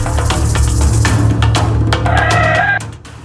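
Chickens clucking and squawking in a coop during a theft caught on CCTV, loud agitated bird calls over a steady low hum and rustling, with a sharper cry near the end.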